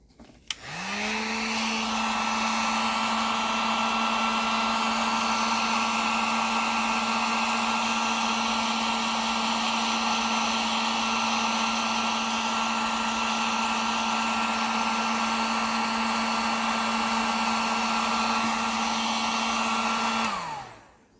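Hair dryer blows on wet-molded leather, spinning up, running steadily with a loud, even whine and rush of air for about twenty seconds, then winding down, close with no voices.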